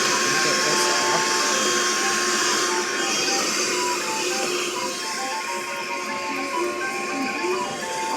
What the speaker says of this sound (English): so now I'm gonna vacuum it